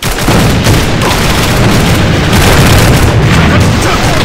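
A grenade explosion in the online shooter A.V.A on the Dock map produces loud, continuous booming and rumbling blasts that saturate the whole stretch, with crackling bursts and no pause.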